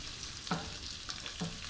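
A medium-sized chopped onion fries in hot mustard oil with black mustard seeds and curry leaves for spicy suji upma: a steady, soft sizzle, close up, with faint stirring scrapes.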